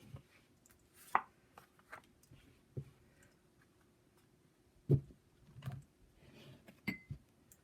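Tarot-style reading cards are laid out one by one on a table, giving soft, quiet taps and light slaps at irregular intervals with near silence between.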